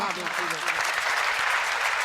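Audience applause rises at a Hindi poetry recital, a dense wash of clapping heard under a poet's speaking voice that continues over it.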